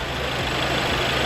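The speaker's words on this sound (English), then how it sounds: "The engine is running just fine" A VW MK7 Golf GTD TDI diesel idles steadily after a fresh timing belt, water pump and idler pulley job, giving a constant close-up rumble with an even low throb throughout and no talk.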